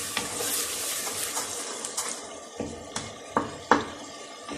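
Spices, tomatoes and chicken frying and being stirred for lobia gosht, a steady sizzle broken by several sharp scrapes and clinks of a spoon against the pot that grow louder toward the end.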